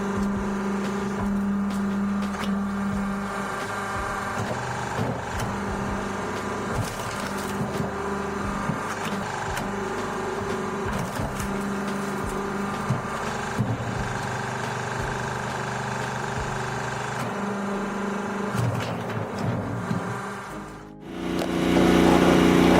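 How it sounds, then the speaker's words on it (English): A 41-ton Venom hydraulic wood splitter driven by an electric motor runs with a steady, loud mechanical drone and busy clattering over nearly the whole stretch, dropping off sharply near the end. "Introducing this amazing 41-ton Venom wood splitter."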